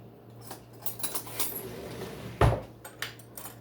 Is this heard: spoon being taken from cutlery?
yes